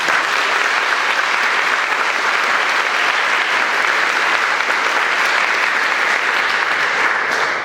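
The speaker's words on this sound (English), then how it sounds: "if we could just give the custodians a big round of applause" A school concert crowd gives the custodians a big round of applause, dense sustained clapping from many hands at steady loudness throughout, without talk.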